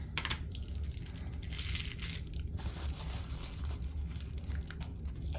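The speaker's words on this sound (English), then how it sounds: "So I'm gonna cut a little piece" Cutting a small piece of silicone insert for an epoxy resin 3D bloom, a steady crunching, crinkling texture running the whole time at a moderate, close level with no voices.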